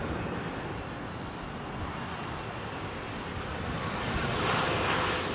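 A Kenya Airways airliner at Heathrow produces a continuous broad jet roar that swells slightly toward the end, loud and steady with no voices.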